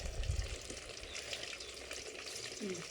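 Fish frying in oil gives off a steady, close crackling sizzle with small bubbling pops throughout, and no voices can be heard over it.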